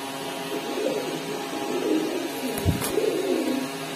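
A pair of pigeons coo softly in low, rounded murmurs at a bird seller's stall, with a brief sharp clatter near the end.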